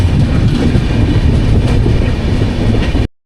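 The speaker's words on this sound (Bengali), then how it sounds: "আর এই যে আমাদের ট্রেন তার নির্ধারিত সময় অনুযায়ী 4:05 হাওড়া থেকে রওনা দিল গুয়াহাটির উদ্দেশ্যে।" A passenger train leaving Howrah station for Guwahati rumbles along the rails with a loud, steady rolling roar and faint clatter, heard from on board, ending abruptly.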